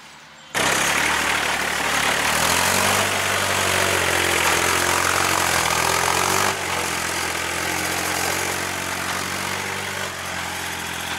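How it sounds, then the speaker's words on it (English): A dumper truck engine runs steadily and close by, a loud continuous idle with a low, even drone that holds throughout, easing slightly partway through. "Tom's having a great time now driving the dumper"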